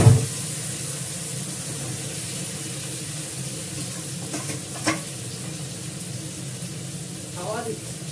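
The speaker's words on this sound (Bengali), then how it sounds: "এবার মাংসটা আর আলুটা দিয়ে দেবো।" Meat and potatoes going into hot oil in a pan, giving a steady moderate sizzle with stirring scrapes and a couple of brief clatters, while a voice murmurs in the background.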